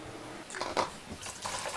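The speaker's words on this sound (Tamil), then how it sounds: "மறுபடியும் ரெண்டு மூணு தண்ணியில் அலசி கழுவி எடுத்து கொள்ளுவோம்" Green beans being rinsed by hand in a bowl of water for a bean and prawn milk curry, with a few soft sloshing and squishing bursts close by and quiet gaps between them.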